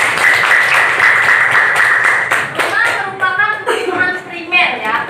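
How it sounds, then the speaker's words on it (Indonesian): A high school economics class bursts into applause for a student, a dense, lively round of clapping from many hands that fades into scattered claps while children's voices and chatter rise underneath. "Tepuk tangan dulu buat Beren."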